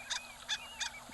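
A recorded harlequin duck call plays back as a series of about four short, nasal, honking squeaks, evenly spaced and fairly loud against a steady background hiss.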